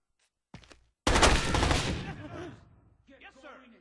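A burst of rapid gunfire from a video game, loud and close, follows a brief thump, then fades into a short voice at the end.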